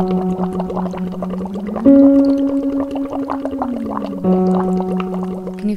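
Voice hummed through a straw into water during a therapeutic vocal warmup, a steady sustained tone with gliding pitch shifts and continuous bubbling gurgle underneath, loud and close throughout.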